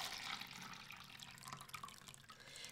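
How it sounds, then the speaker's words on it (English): Warm water pouring into a plastic cup, a faint, steady splashing and trickling stream that runs for a few seconds with no talking. "So I'm gonna start by pouring my warm water into one of my cups."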